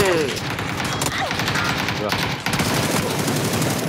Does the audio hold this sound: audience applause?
no